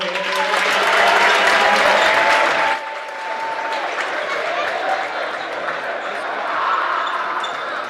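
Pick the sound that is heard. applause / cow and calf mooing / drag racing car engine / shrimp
applause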